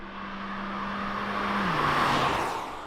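A 2021 Renault Arkana driven through a corner, a steady engine drone with road and tire roar swelling as it turns and the pitch dropping slightly partway through, heard continuously and loud with no talking.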